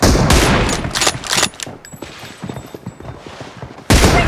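Gunfire in a shooter video game, with loud bursts of rapid shots at the start, quieter scattered firing and clattering in the middle, and another loud burst at the end.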